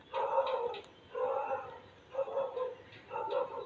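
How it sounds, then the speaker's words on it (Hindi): A neighbour's dog barks close by, four separate bursts of short barks spaced about a second apart, fairly quiet overall. "मेरा बाजू का कुत्ता क्यों भौंक रहा है।"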